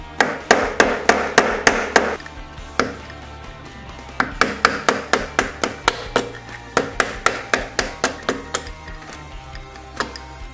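A spanner wrench striking the top locking nut on a motocross rear shock, a long run of sharp, evenly spaced metallic taps, loud and close, with one short pause partway through and no talking.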